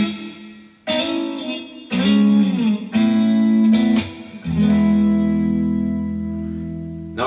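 Electric guitar playing a song riff through effects, several struck chords with sliding bends, each ringing out, the last one sustaining and slowly fading.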